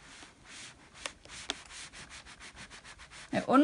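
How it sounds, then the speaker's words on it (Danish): A steam iron is pressed along fabric seams from each side while sewing scrunchies, giving soft repeated rubbing and sliding strokes at close range, with a brief hiss near the end. "Og stryger dem fra hver side."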